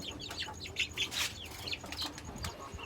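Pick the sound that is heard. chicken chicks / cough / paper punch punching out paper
chicken chicks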